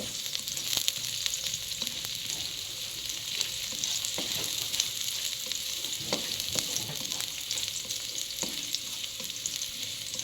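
Onions frying in a pan for Filipino adobo, added after garlic has been sautéed: a steady, fairly loud sizzle runs throughout, with a few louder crackles and scrapes of stirring scattered across it.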